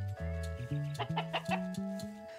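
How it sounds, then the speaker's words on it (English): Chickens cluck steadily in a backyard food garden, a run of close, moderately quiet rhythmic clucks and soft calls. "having the chickens move back and forth between these gardens"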